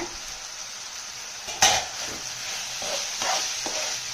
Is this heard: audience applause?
no